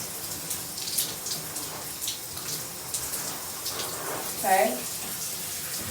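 Shower water runs steadily in a home bathroom while hair is being wetted, a continuous close hiss of spray, and a voice briefly speaks and exclaims over it.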